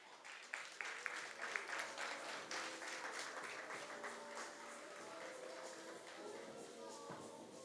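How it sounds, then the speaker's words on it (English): Audience applause at a Top Companies Survey 2019 awards ceremony after the winner is announced, a faint, dense patter of clapping sustained for several seconds. "let's give them a big round of applause."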